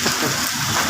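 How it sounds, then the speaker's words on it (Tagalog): Heavy rain pours down in a dense, steady hiss of drops on surfaces, loud and close, with no voices over it. "mangluod ang uwan"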